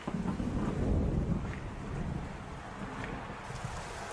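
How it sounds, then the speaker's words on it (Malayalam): Steady rain and low rumbling thunder roll through a cartoon football match, a broad wash of storm noise swelling early and then settling into a continuous hiss with no talk. "ഇതാ ഒരു പുതിയ പ്രശ്നം എത്തിയിരിക്കുന്നു. മഴ"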